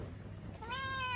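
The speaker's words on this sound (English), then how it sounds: "This is only a little kitten." A single little kitten in Sapa gives one clear, rising meow near the end, close and fairly loud, after a short stretch of quiet background rustle.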